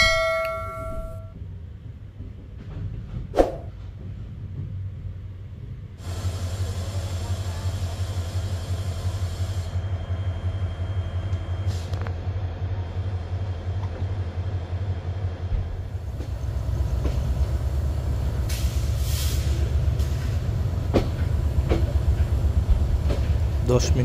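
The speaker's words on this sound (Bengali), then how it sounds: "দশ মিনিটের যাত্রাবিরতি দিয়ে ঢাকা বিমানবন্দর রেলওয়ে স্টেশন ছেড়ে যাচ্ছে" A passenger train on the Dhaka to Chittagong route pulls out of Dhaka Airport railway station. It is quiet at first with a brief bell-like chime, then a steady rumble with rhythmic wheel clatter builds and grows louder as it gathers speed.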